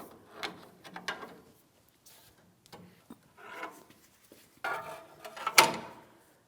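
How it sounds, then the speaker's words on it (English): A stuck outer tie rod end on a 2007-2014 GMC Sierra 2500 HD pried loose, heard as scattered metallic scrapes, creaks and clunks at close range, ending with a sharp knock as it breaks free. "I'm just going to carefully pry it down and out of place"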